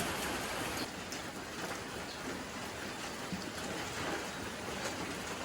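Steady rain falls in a dense, even hiss with no pauses, continuous and fairly close, with no voices over it.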